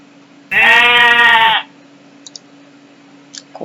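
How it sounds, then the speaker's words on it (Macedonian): A single goat gives one loud, close bleat lasting about a second, followed by near silence broken only by a few faint clicks. "Коза."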